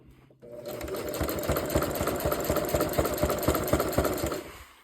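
A sewing machine stitches a jelly roll fabric rug, running steadily with a fast rhythmic needle patter close up, continuous and alone after a brief quiet start.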